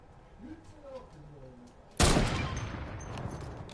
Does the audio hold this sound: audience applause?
no